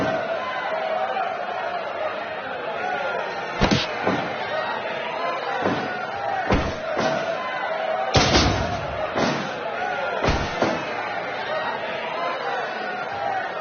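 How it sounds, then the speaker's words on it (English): A dense wrestling arena crowd roars throughout a video game match, punctuated by several loud slams and thuds, with a commentator talking over the din. "Sounds like this crowd's got something on their minds, King."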